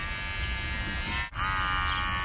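Mosonth pet clipper motor buzzing steadily and close, with a brief dip as it switches speed and then hums on at a slightly different pitch.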